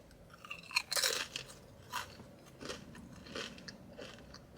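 Close, crisp crunching as someone bites and chews a crunchy snack, several bites then softer chews, with no talking.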